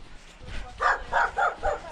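Dogs bark at close range outdoors on a winter mountain hike, giving four quick barks in a row after some brief low rustling.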